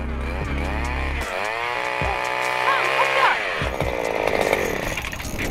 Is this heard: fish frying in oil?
no